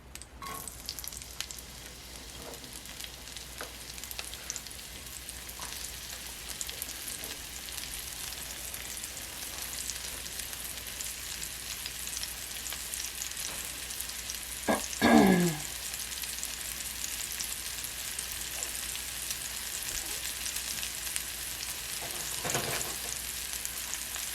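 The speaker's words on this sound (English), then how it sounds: "So we're going to put our onions in first." Onions fry in grease in a cast iron skillet, a soft continuous sizzle with a brief louder burst of crackling midway, no voices.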